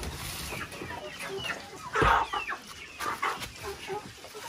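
Chickens clucking inside a coop of young roosters and hens, scattered close clucks and squawks with one louder squawk near the middle, over a steady background hum.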